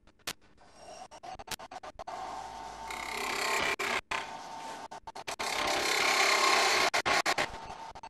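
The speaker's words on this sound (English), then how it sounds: "we will turn the lathe back on and continue with the cut" A wood lathe takes off waste material in long, steady scraping cuts, broken by short gaps and sharp taps as the tool lifts and returns, with a Robert Sorby wobble chuck holding the work.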